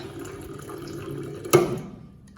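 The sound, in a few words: water poured into a jar of almonds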